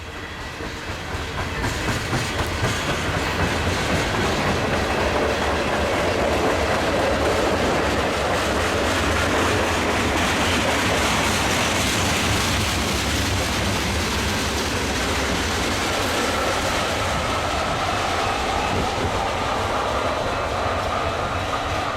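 Union Pacific mixed freight train rolling past, including a CNW gondola car, with a loud, continuous rumble and steady clickety-clack of wheels on rail, close by and with no talk.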